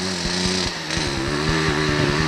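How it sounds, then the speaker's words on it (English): A CZ motorcycle engine idles nearby at a vintage 40-plus hare scramble, a steady, throbbing low putter with regular firing pulses, holding loud and even throughout. "Can't believe it, a CZ that idles."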